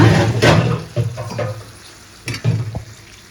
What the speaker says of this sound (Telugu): కొన్ని వాటర్ అయితే పోసుకోవాలన్నమాట